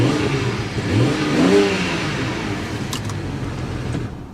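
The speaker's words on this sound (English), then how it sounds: "Let's give it a little rev." A car engine revs briefly and rises in a throaty sweep, then falls back to a rumbling idle, close by and with no talk over it.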